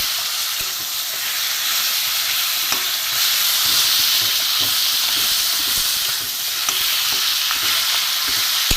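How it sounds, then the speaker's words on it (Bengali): A fish head fries in oil in a pan, giving a loud, continuous sizzle and hiss with faint stirring clicks throughout. "মাছের মাথাটা একটু আমি ভালো করে ধুয়ে ভেজে নেব"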